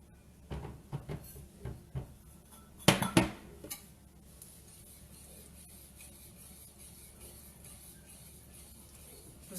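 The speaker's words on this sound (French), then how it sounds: "Je vais mélanger." Waffle batter with applesauce is stirred in a bowl, with clinks and scrapes of a utensil against the bowl, loudest in a short burst early on, then fading to a quiet background.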